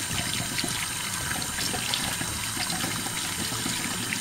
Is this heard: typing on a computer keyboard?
no